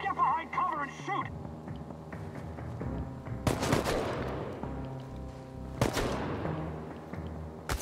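Gunfire in the video game Chernobylite, with bursts of shots and sharp cracks breaking out amid in-game sound, two loud impacts standing out, and a voice briefly heard early on.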